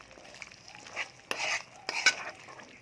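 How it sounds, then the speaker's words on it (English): A spoon stirring coconut milk into beef rendang in a pot, giving a few soft scraping and clinking strokes at close range, with quiet gaps between them and no talking. "Give a good stir,"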